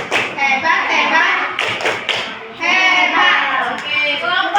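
A class of children in a group activity claps a rhythmic pattern while chanting together, producing quick sharp hand claps and taps in bursts between chanted words, fairly close and lively.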